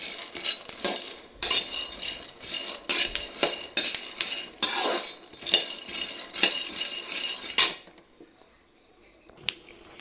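Peanuts being dry-roasted and stirred in a pan for sesame laddoos, heard as close, irregular clinks and scrapes of a utensil against metal in bursts, then falling mostly quiet near the end.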